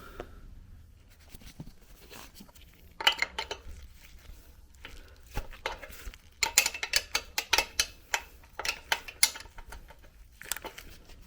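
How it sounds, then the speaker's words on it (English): A wrench loosens the locking nuts on a Triumph Tiger 800 chain adjuster, giving sharp metallic clicks and rapid ratchet bursts, close and loud, with quieter gaps between. "loosen the locking nuts. On each side, it's loose."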